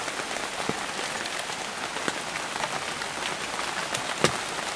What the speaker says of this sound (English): Got a little rain going on.